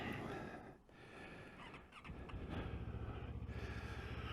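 A 2022 CF Moto MT650 motorcycle engine idling with a low steady burble, loud and close, settling into a rhythmic throb after a brief dip.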